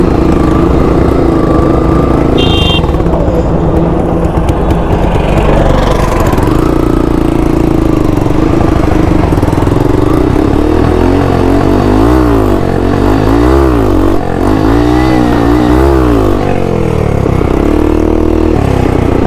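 A Dragon-style motorbike engine runs steadily while being ridden and struggles to build power, its loud continuous drone rising and falling with throttle changes and occasional revving swells.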